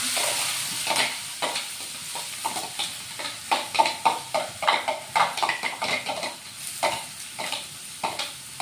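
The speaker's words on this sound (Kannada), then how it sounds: "ನಾನೀಗ ಈರುಳ್ಳಿ ಮತ್ತೆ ಶುಂಠಿ ಹಸಿಮೆಣಸಿನಕಾಯಿನ ನಾವು ಕಟ್ ಮಾಡಿ ಇಟ್ಕೊಂಡಿದ್ವಿ, ಅದನ್ನ ಹಾಕ್ತಾ ಇದ್ದೀನಿ" Chopped onion, ginger and green chilies hitting hot oil with toasted cumin, sizzling steadily while a spoon stirs and scrapes the pan in quick repeated strokes, close and clear with no talking.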